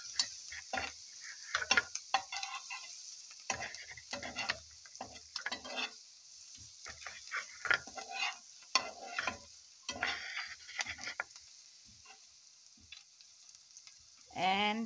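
Ginger and minced garlic dropped into a hot pan and stirred, a soft sizzle with scattered scraping and ticking taps of a utensil against the pan, irregular and fairly close, with a steady hiss throughout.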